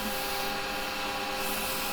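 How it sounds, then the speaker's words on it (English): Sandpaper held against spinning wood on a woodturning lathe gives a steady, close, continuous rubbing hiss that stays even throughout, with no voices. "I'm sanding on that side"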